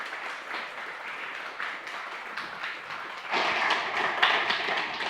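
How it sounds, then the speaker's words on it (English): Steady crowd applause with many hands clapping, growing noticeably louder and denser partway through and continuing to the end. "Give a big applause"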